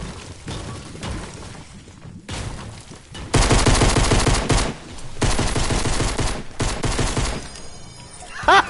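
Pistol fire in a video game sounds as loud, rapid bursts of gunshots in a pistols-only match, with short pauses between volleys and a sharp crack near the end.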